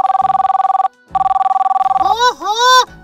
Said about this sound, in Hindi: ओहो इस कंजूस का फोन आ गया